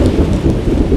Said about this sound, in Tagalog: pagka malakas yung ulan, yan, dito lahat ang punta ng tubig